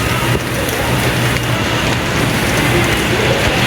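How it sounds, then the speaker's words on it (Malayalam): Heavy rain falling outside a home during a wet morning: a loud, dense, continuous roar of rain that fills the whole stretch without pause and with no talk. "കണ്ടില്ലേ, പുറത്ത് നല്ല മഴയാണ്."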